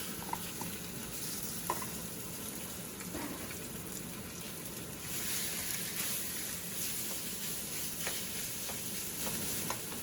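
Marinated pork for pad see ew frying in a pan, a steady close sizzle with occasional stirring scrapes and pops, continuous throughout with no talking.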